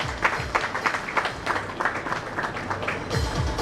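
Audience clapping at a public event in Maharashtra attended by the state Governor, a steady patter of moderate hand claps lasting a few seconds with a slight swell near the end.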